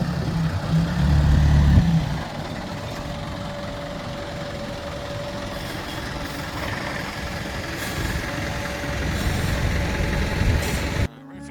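A concrete delivery truck idles on a house building site with a steady low diesel rumble, heard from a short distance, while wind and faint movement sound over it and a louder burst of noise comes near the start.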